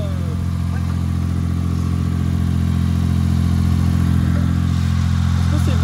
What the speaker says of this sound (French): Et elle a démarré au quart de tour là.